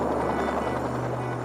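Fairey Rotodyne compound helicopter running its rotor tip jets just before takeoff, a steady loud roaring drone with a low tonal hum underneath, continuous and close throughout.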